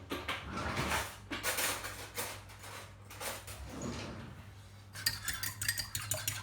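An egg is cracked and mixed in a dish while making choux pastry, giving soft, close clinks, taps and scraping of utensil against the bowl in a quiet kitchen.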